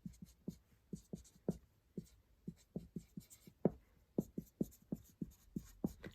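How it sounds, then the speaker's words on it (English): Pen strokes writing chemistry notes by hand, quick close tapping scratches in an irregular rhythm with short pauses, moderately quiet and alone. "Let's write these down."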